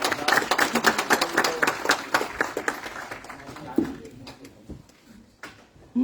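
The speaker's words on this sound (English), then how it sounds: "One more round of applause for" Applause from a small audience at a city council meeting, sharp distinct claps that start strong and gradually thin out and fade, with a few scattered claps and a voice near the end.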